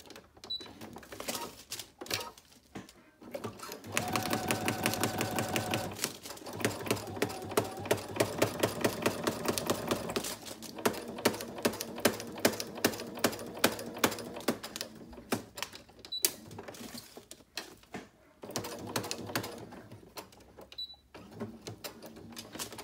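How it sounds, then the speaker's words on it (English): Close, rapid clatter of a sewing machine running stitches along a shaker envelope binder, in several sustained bursts with short stops between them and no talking. "this is probably not going to be the straightest stitching"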